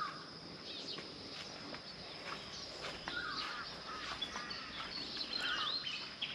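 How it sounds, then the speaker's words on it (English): Morning birds call and chirp in Port Moresby among garden plants near houses, a faint, busy chorus of high twittering with a steady insect-like hiss beneath it. "you might be able to hear all the birds, the sound that we wake up to every morning"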